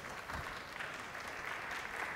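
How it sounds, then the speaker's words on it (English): Dense applause from an audience at a startup competition, steady rapid clapping from many people, filling the room evenly for a couple of seconds with no talk. "So big round of applause for Submobile, please."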